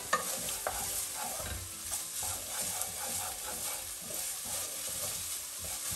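Chillies being stir-fried over medium-low heat in a pan for a beef dish, with a steady broadband sizzle and repeated scraping strokes of a utensil throughout, close and continuous with no talking.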